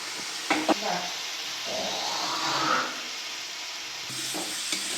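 Potatoes are stirred into a sizzling masala paste for a duck egg curry, a spoon scraping and turning through the hot frying mixture with a steady close hiss, a few clattering knocks near the start and end.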